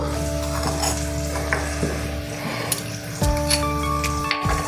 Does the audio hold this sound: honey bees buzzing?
no